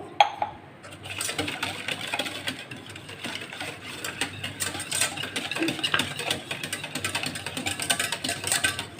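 Pancake batter with a glass of cooled milk is whisked in a bowl, making fast, steady metallic clinking and scraping strokes that run continuously at close range.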